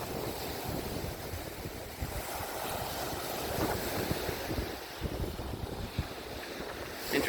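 Waves wash steadily along the rocky Lake Michigan shore in early spring, a continuous rushing surf mixed with gusty wind noise on the microphone, no voices.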